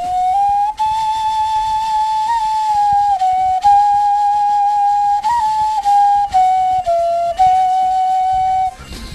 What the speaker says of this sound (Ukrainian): тільки це робилося з рогів коров'ячих різних, там це називалося гемсхорни